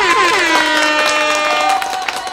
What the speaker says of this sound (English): Let's get a little air horn.